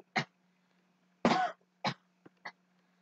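A group of coughs and throat clearings during a Christmas quiz: five separate bursts, one longer and harsher than the rest, fairly close and clear over quiet surroundings, with no talking.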